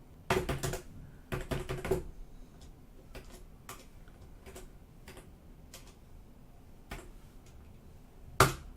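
Fingers type code on a computer keyboard for a BASIC 1.0 program: quick bursts of close, crisp key clicks, then sparser single taps and a final sharp keystroke.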